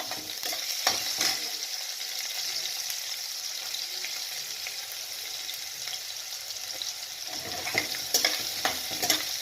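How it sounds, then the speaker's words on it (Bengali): Onions fry in a pan with cinnamon, crushed cardamom and asafoetida, a steady close sizzle broken by scraping stirs at the start and again near the end. "পেঁয়াজটা ভাজা হয়ে আসছে দেখতেই পাচ্ছেন"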